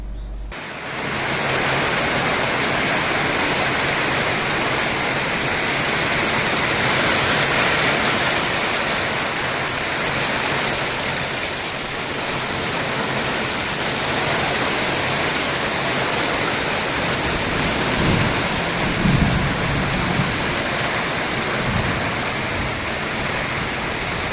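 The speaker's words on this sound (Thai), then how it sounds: "ถ่ายตอนช่วงหน้าฝนพอดีนะครับ เป็นเมทัลชีตผมก็จะเป็นแผ่นเมทัลชีตใส" Steady rain pours onto a thin clear metal sheet roof, a constant dense hiss-like roar that barely changes throughout, with no voices.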